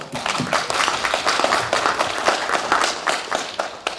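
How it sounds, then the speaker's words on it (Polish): An audience applauds at a Polish People's Party meeting marking an anniversary of the Mazurian People's Party. Dense, steady clapping from many hands fills the room for several seconds, with no voice over it. "Wielkie brawa!"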